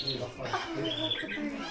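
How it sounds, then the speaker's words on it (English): Small birds chirp with quick, bright tweets in a busy indoor-sounding space, fairly close and moderately loud against a murmur of background noise. "Oh, they're very happy little birds."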